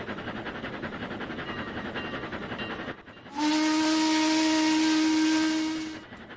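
A train in the Trainz 2019 railway simulator blows a long, loud steam whistle as it runs through a station without stopping. The steady tone rises out of a rhythmic chuffing rumble, holds for about three seconds, then fades back into the running noise.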